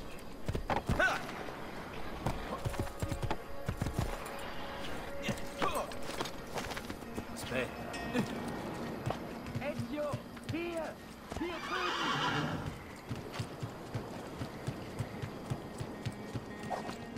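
Horse hooves clip-clop and a horse whinnies in a video game set in a Renaissance town, the neigh rising around the middle amid game ambience, with someone talking over it.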